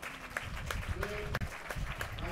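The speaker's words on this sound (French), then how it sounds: "C'est fou comme une sortie sur un point de padel, derrière on applaudit à la fin." Spectators at a FIP Gold padel tournament in Perpignan applaud a point with sustained, moderately distant clapping, while a commentator talks over it throughout.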